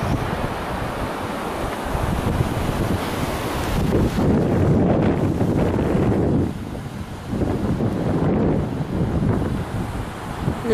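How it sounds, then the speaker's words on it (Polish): A rushing mountain stream in the Tatra Mountains gives a steady, loud broadband roar of water that continues without a break throughout, with no voices heard. "Nie, szum wody."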